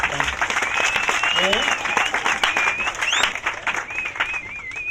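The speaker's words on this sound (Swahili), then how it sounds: "Pigeni makofi Mheshimiwa Rais" An audience at a formal government speech breaks into sustained applause for the President, a broad wash of clapping with a whistle-like tone gliding over it and voices mixed in.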